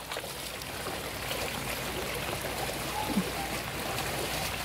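Floodwater runs through a flooded neighbourhood with a steady rushing, trickling wash at moderate level, continuous and even for the whole stretch.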